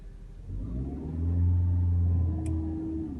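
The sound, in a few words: car engine revving as car drives off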